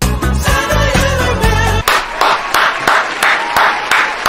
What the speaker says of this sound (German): Bitte jetzt nicht mehr klatschen.